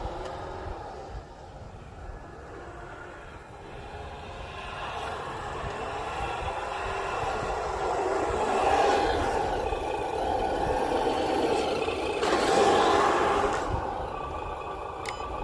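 An HG P602 radio-controlled military MRAP-style truck drives in first gear with a faint whining electric-motor drone that swells and fades as it moves around, with no talk.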